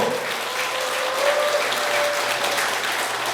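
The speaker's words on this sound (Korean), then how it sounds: "김순례 최고위원님 큰 박수로 한해 주십시오" Steady applause from party members at a political party meeting, a thick wash of clapping held at a constant level throughout, with a faint sustained tone running underneath.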